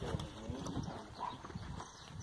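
Horse hooves clip-clopping on a farm, a faint, steady stream of soft hoof beats heard at a distance alongside low background noise.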